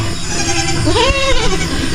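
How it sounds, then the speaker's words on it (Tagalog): A mother goat bleats once in a wavering, drawn-out call over steady background noise on a farm. "Nanay kambing. Ayan. Tapos may baby kambing din dyan."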